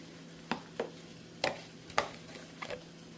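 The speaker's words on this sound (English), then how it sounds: "So I'm going to mix the margarine in." A spoon stirs margarine into a small pan of pasta, making soft, irregular scraping taps about half a second apart, faint and close, with no talking.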